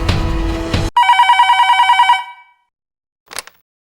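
A telephone rings loudly and close by in a Telugu TV drama scene, with about ten rapid, even electronic ring pulses right after a burst of louder sound, then silence and a brief soft noise.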